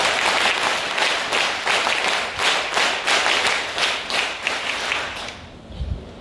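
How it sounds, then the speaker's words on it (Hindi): Audience at an NCC certificate ceremony applauding successful cadets, a brisk burst of rhythmic clapping with a pulsing, almost unison beat that fades out near the end. "तो एक बार जोरदार तालियां इस बात के लिए।"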